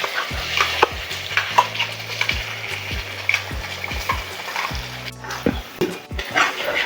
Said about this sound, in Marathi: या वाटणाला आपल्याला तेल सुटेपर्यंत परतवून घ्यायचं आहे